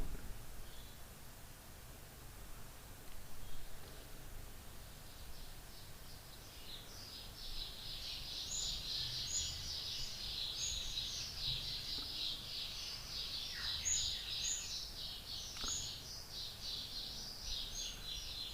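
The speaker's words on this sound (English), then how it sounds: "You hear all the birds." Faint chorus of spring birds chirping and twittering in the distance, building into a busy overlapping burst of high calls over a quiet outdoor hiss.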